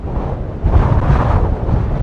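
Loud wind buffeting a microphone outdoors on a gusty street, a steady low roar that swells heavier midway and stays constant with no voices.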